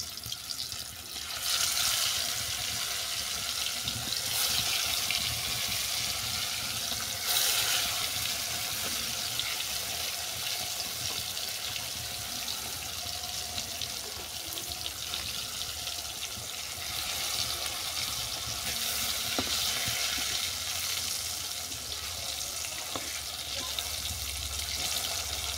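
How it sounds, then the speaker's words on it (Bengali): Fat from a shankar (stingray) fish frying in hot mustard oil in a kadai, turned until browned, giving a steady, continuous loud sizzle and crackle throughout with no talking. "এরপর মাছের তেলটা উল্টো পাল্টে বাদামি করে ভেজে নিচ্ছি।"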